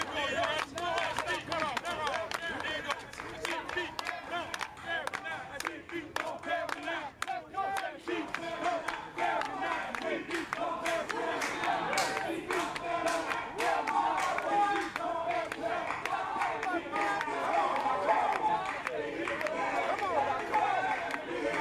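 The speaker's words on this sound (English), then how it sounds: "The group will widen into a ring, encouraging and challenging one or two dancers in the middle by clapping, shouting, playing cowbells and tambourines." A New Orleans second line crowd claps and shouts around dancers in a ring, loud and dense, with rhythmic clapping under overlapping voices.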